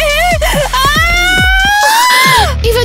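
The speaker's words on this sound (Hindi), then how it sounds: "चीख क्यों रही हो?" A girl screaming loudly and close, one long high sustained shriek that rises and wavers for over two seconds, with sharp thumping impacts underneath.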